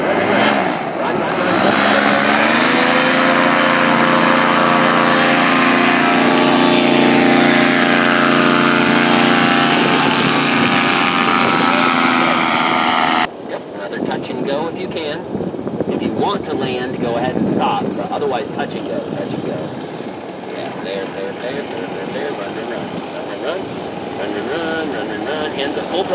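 A paramotor engine runs at full throttle during a powered paragliding training launch: a loud, steady, rising harmonic drone for about thirteen seconds, then the scene gives way to rough wind buffeting.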